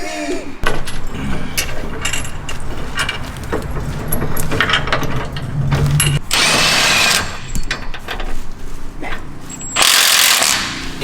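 Impact wrench in a shop during an LB7 Duramax engine build, giving loud, close bursts of rattling hammering amid metallic clatter and jangling, with quieter handling noise between the runs.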